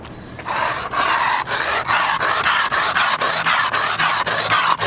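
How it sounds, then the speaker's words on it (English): Rub brick grinding across a concrete curb surface, making steady loud rasping scrapes in repeated back-and-forth strokes with brief dips between passes, close up and with no talk. "So we got the rub bricking done."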